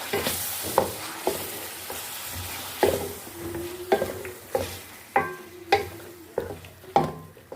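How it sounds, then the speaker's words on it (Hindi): Ground garlic, ginger and green chili paste is stirred into a hot sizzling pan, a spoon scraping in regular rhythmic strokes over a continuous frying hiss, close and fairly quiet. "इसमें हम ये डाल देंगे जो हमने लहसुन, अदरक और हरी मिर्ची ग्राइंड की थी, और इसको हम अच्छे से मिला लेंगे"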